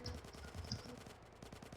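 Rapid bursts of video game gunfire crackle in quick repeated volleys, steady and fairly loud throughout, with no voices.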